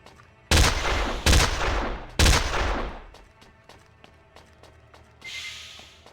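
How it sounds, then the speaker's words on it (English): Explosion sound effects in a self-made zombie video game: three sharp, loud booming blasts in quick succession, each trailing off, followed by a scatter of lighter clicks and thuds. "there's also an explosion that plays"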